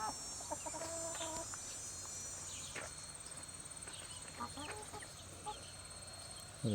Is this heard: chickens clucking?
yes